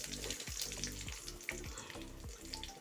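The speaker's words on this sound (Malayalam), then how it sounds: "2 ടേബിൾ സ്പൂൺ വെളിച്ചെണ്ണ ഒഴിച്ച് ചൂടായി കടുക് ഇട്ട് കൊടുത്തിട്ടുണ്ട്. കൂട്ടത്തിൽ ഒരു വറ്റൽമുളക്" Mustard seeds, a dry red chili and curry leaves frying in hot coconut oil give a steady loud sizzle with scattered crackles and pops, continuous throughout and free of talk.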